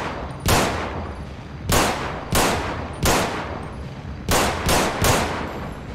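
Regular pistol shots from a FiveM GTA video game gun sound pack, about eight loud, sharp reports fired in uneven bursts, with a brief ringing tail after each and no talking.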